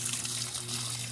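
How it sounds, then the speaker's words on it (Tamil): A garden hose runs steadily while watering potted plants at a home garden, giving a soft continuous gush and spray, fairly quiet throughout. "செடிக்கு ஓசை எடுத்து இந்த செடி தண்ணி விட்டுக்கிட்டு இருக்கோம்"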